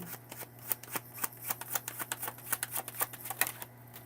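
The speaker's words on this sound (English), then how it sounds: "I'll pull a few more cards and then I'll close it up." Tarot cards shuffled by hand in quick, crisp riffles and flicks, a close, rapid train of papery snaps repeating steadily throughout, with no talk over a faint low hum.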